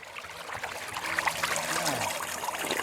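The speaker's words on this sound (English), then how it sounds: "There's just water coming right up out." Spring water wells up from the ground and trickles out in a steady, close, gurgling flow, with a soft bubbling texture throughout.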